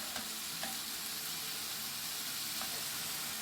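Minced chicken sizzles steadily in a hot pan while being stirred, a constant close frying hiss with faint scraping, no voices.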